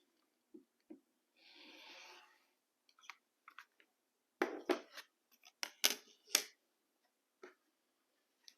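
Scissors cut paper for a maple leaf craft: sparse sharp snips, then a cluster of quick close clicks and cuts in the middle, with a soft rustle of paper early on and quiet gaps between.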